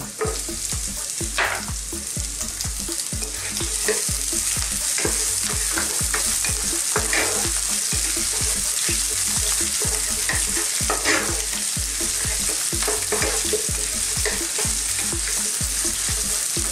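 Onion and garlic sautéing in a pan, a constant bright sizzle with steady stirring and occasional scrapes running evenly throughout, close and alone.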